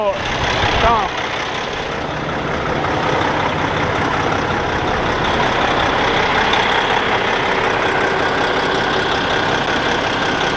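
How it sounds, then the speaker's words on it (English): A Cummins ISX15 diesel truck engine with a bad head gasket turns over and settles into a steady, loud, rumbling idle that holds unbroken throughout. "go to the driver's seat and start the engine"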